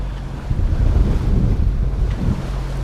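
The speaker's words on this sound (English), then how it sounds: "you can see just on the other side of the marker buoy some waves breaking" Waves breaking near a marker buoy off a point on the sea route from Port Ludlow toward Port Angeles, heard as a steady surf wash mixed with strong wind buffeting the microphone on a sailboat.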